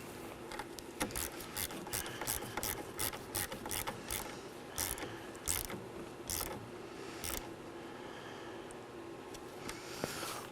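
Ratchet tightening the negative battery terminal nut on a 2018-2024 Chevrolet Equinox 1.5L, a run of sharp close clicks in quick bursts with brief pauses, steady and fairly loud.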